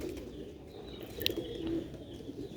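Sialkoti Jonsre Moti pigeons coo softly in a low, throaty murmur, with a brief flutter midway, close by against faint background noise.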